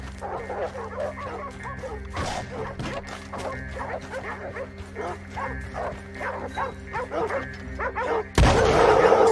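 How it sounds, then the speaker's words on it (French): Dogs bark over and over in Red Dead Redemption II, a steady stream of yaps and woofs mixed with game sounds, with a louder burst of noise near the end. "Ah, les démons, c'est des chiens, quoi."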